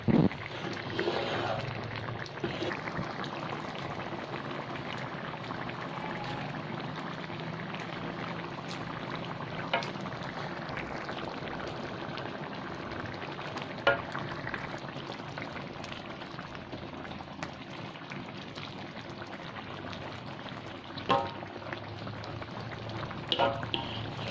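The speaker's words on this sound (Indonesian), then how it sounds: "Sudah mulai mendidih, hampir masak." Acehnese pliek u curry broth with lime leaves simmering in a pot as it starts to boil, a steady close bubbling and seething hiss that runs throughout with a few brief clinks.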